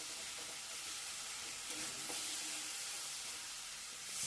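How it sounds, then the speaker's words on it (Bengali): Spices for a dal and egg curry sauté and get stirred in a pan, making a faint, steady sizzle and hiss with soft scraping movements near the middle. "দেখুন আমি সব কিছু দিয়ে আরও একবার ভালো করে কষিয়ে নিচ্ছি।"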